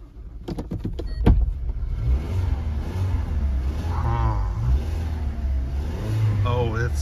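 A 2012 Range Rover Evoque 2.0 engine with a cylinder-four misfire cranks with sharp clicks, then idles in a rough, uneven rumble, while someone talks over it.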